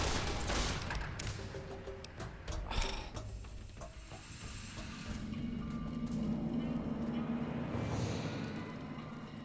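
Gunfire in Fallout New Vegas: a burst of sharp shots crackles at the start, followed by scattered pops and a lower rumbling engine-like drone.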